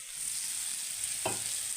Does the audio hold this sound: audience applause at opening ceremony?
no